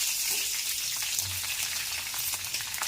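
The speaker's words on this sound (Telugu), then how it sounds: "ఇప్పుడు పచ్చిమిర్చి వేయించుకుందాం" Halved green chillies frying in oil, a steady close crackle and hiss with fine popping spatter running throughout, no voices over it.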